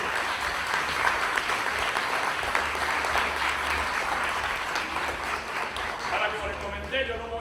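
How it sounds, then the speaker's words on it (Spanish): Sustained audience applause for a sponsor at a book presentation event in San Germán, steady dense clapping filling the hall throughout, with some voices mixed in beneath it. "me gustaría que le dieran un aplauso contundente a él"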